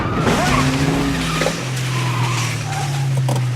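Car tyres skid and squeal loudly as the brakes are slammed on during a driving lesson in a movie scene, a sustained harsh screech lasting several seconds with engine rumble underneath.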